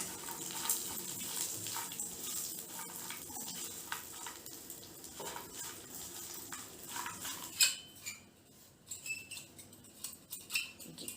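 A spoon clanks and scrapes in a metal pan as fried ivy gourd pieces are stirred together with onion, green chili and curry leaves, giving a steady run of close clinks and scrapes with quiet pauses near the end.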